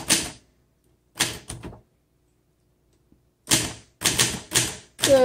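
A 1960 Adler Primus manual typewriter clatters out short bursts of sharp key strikes separated by silent pauses, close and clear, with no voices.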